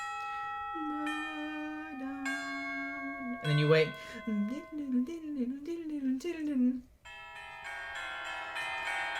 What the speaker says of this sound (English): I also have the tubular bells play along for us a little bit.